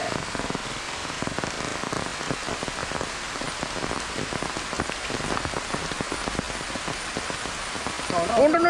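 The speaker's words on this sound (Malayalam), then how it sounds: "ഒത്തിരി മഴയാണ് നമുക്ക് പോയേക്കാം കേട്ടോ." Heavy rain pours down steadily in a village during traditional net-cast fishing, a dense, loud hiss of drops striking surfaces throughout, with a voice briefly audible near the end.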